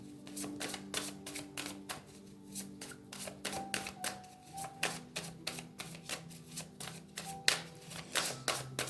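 Playing cards riffled and shuffled by hand for a tarot-style card reading, a rapid run of crisp papery flutters and snaps repeating close up across the whole stretch with no talking.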